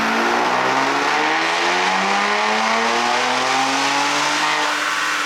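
Ram RHO pickup truck revving hard on a dyno with a JB4 tune on map 4 running E30 fuel, a loud sustained engine roar with rising pitch as it pulls through the gears, close and alone.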